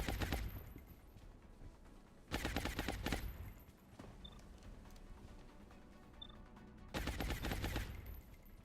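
Bursts of suppressive gunfire in the turn-based strategy game XCOM Long War, loud dense volleys at the start and again near the end, with quieter shots and ambience in between.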